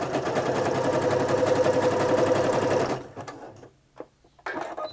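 A Singer Quantum Stylist 9960 sewing machine stitches a zigzag in a fast, steady mechanical chatter for about three seconds, then stops, leaving a few soft clicks and handling noises.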